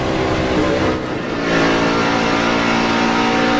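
NASCAR race cars roar around the track during a race, a loud, continuous, dense engine drone with a brief dip and then a renewed surge of revving, with no speech.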